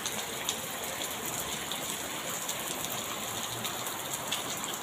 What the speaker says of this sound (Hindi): कितनी तेज बारिश हो रही, देख